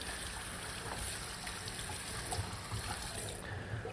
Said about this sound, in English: Now I'm going to run some cold water over them to stop the cooking